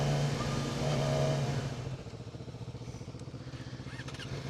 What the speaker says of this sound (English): Sounds good, stock exhaust.